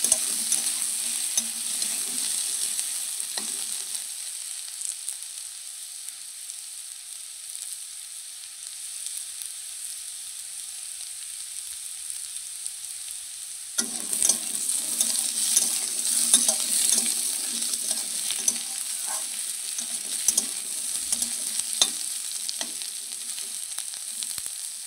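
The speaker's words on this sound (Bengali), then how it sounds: "তো দেখো আমার আলুটা ভাজা হয়ে গেছে" Potatoes frying in oil in a village-style home kitchen give a quiet, thin sizzle at first. Around midway the sizzle turns louder and busier, with stirring and light scraping in the pan, and no talk.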